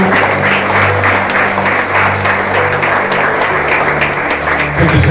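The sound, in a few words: church congregation applauding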